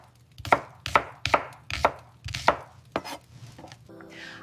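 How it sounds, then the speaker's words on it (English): Knife chopping onions on a board, with a run of six crisp, evenly spaced chops followed by a few softer knocks and a faint clatter. "I cut onions."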